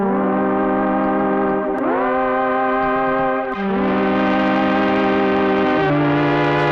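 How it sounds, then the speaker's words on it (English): A distorted synthesizer drone, run through a dirty limiter, holds stacked harmonic tones that slide down in pitch in several steps, gritty and buzzing like a dark apocalyptic siren. "So that's the sound straight out of the synth."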